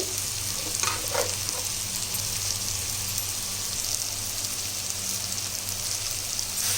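Mixed vegetables (beans, broad beans, drumsticks, carrots, brinjal) sautéing in a pan for hotel-style sambar rice, giving a steady, close, continuous sizzle with a low background hum and no talk.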